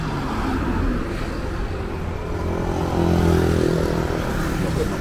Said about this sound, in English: Not getting knocked over by this flashy car.